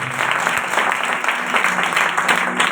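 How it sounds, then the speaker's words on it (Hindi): A church congregation clapping loudly during a Christmas sermon, a dense steady burst of many hands with no speech over it. "प्रेज यीशु की जलाल के लिए थोड़ा जोरदार तालियां।"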